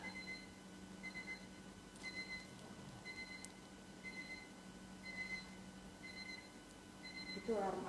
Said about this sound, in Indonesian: Itu alarm apa ya, Chef?